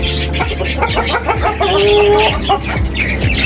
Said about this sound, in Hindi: ये देखें बर्ड्स माशाल्लाह, इनका शोर शराबा